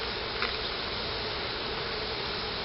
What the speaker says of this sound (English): The bees traveling from one to the other.